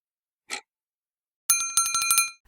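A notification bell effect gives one brief soft swish and then a bright ringing bell run of rapid repeated strikes, loud and close with no voice.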